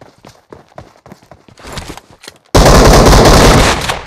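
Gunfire in PUBG Mobile: a run of separate sharp shots at the start, then a sudden loud, dense burst of continuous fire that fills the last second and a half, close and forceful.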